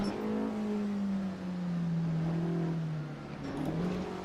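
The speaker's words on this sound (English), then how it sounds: "you can put your foot down and just get the back end of the Porsche to swing out" A Porsche 718 RS 60 Spyder racing at Mišeluk in Assetto Corsa snarls steadily under acceleration, its engine note sliding down through a gear change and then climbing again, loud and close with no voices.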